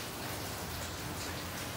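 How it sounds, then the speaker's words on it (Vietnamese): Heavy rain falls steadily in a dense, even wash of hiss with no pauses or other sounds standing out. "bữa nay trời mưa quá"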